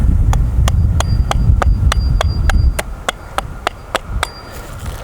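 An axe chops silky oak wood outdoors among spring canola crops, a steady run of about fifteen sharp, evenly spaced strikes over a low rumbling background.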